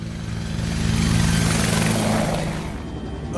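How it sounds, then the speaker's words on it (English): A helicopter's rotor from the video game Final Fantasy 7 Remake thrums loudly and steadily, swelling as it passes close overhead, then easing slightly as it moves off. "The helicopter."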